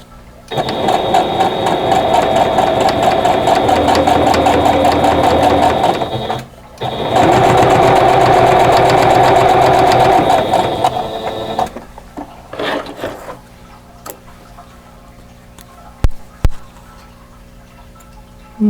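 A sewing machine stitches quilt block seams for a Buckeye Beauty block in two loud, steady runs of about six and five seconds with a short pause between, then stops, leaving faint handling clicks and light rustling.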